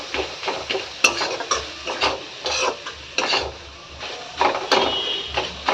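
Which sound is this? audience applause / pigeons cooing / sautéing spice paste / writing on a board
sautéing spice paste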